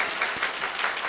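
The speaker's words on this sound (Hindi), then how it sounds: "ताली बजा के प्रभु ने धन्यवाद दे दो।" A church congregation claps in thanks to God, a dense wash of many hands at once filling a short burst, fairly loud and close.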